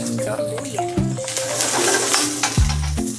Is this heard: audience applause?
no